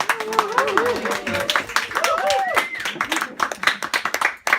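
A small crowd at a gallery opening claps, with scattered hand claps under cheerful voices and whoops from people talking nearby.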